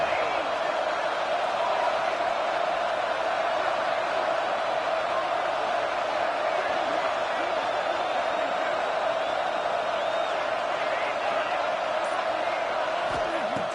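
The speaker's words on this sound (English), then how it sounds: "This crowd is trying to inspire this defense to make a big red zone stop" Stadium crowd at a football game building noise during a red zone defensive stand, a steady dense roar held throughout, with a commentator's voice running over it.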